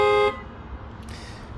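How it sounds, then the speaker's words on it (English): A 2024 Subaru Solterra horn triggered from the key fob gives one short, loud, steady toot, close by, then cuts off to quiet background. "So here you have the hold button, which uses the horn."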